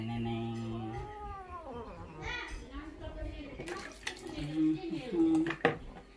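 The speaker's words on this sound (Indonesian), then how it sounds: "Sore semuanya, kita akan, kucing kita akan mandi." A cat meows and yowls repeatedly in drawn-out, rising and falling cries while being bathed, with splashing water and a person speaking close by.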